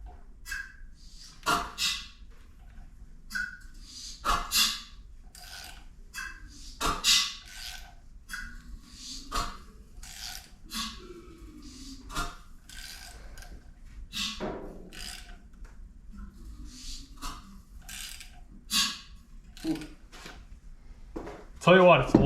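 A rebuilt Mazda RX7 rotary engine turned over by hand, giving close, rasping suction pulses that repeat at a steady, unhurried rhythm of roughly one every two to three seconds.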